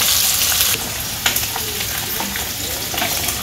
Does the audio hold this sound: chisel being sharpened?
no